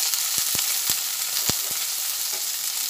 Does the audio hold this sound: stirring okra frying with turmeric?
yes